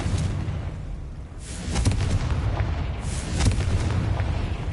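Spell blast from the Confringo fire spell in Hogwarts Legacy on PS5, heard as heavy booming explosive bursts with rumbling low-end, two or three loud impacts in quick succession with no talk.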